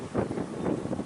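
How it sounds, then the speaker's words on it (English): Wind gusts across a microphone outdoors, a steady low rumbling buffet that swells and dips without a break for about a second, with no voices. "pardon the wind."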